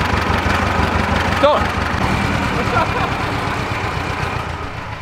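A tractor engine with a damaged motor runs steadily on a dynamometer roller, a loud, even mechanical drone with one brief pitch sweep early on, with a voice speaking briefly.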